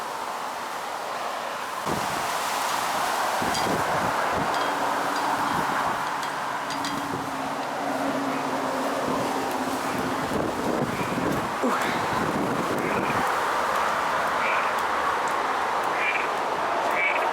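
Strong hurricane wind buffets the microphone at Walt Disney World in a steady, loud roar with surging gusts, a low rumble running through the middle of the stretch.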